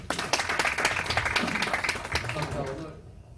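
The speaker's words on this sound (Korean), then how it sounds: "큰 박수 부탁드립니다." A room of attendees claps for the CEO of BioX, a company showing hydrogen production, taking the stage, a dense wash of applause that fades out toward the end, with faint murmuring beneath.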